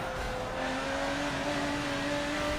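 A V12 race car engine in the Forza Motorsport 7 video game holds a steady, high, tonal drone at a constant level throughout, with no talking over it.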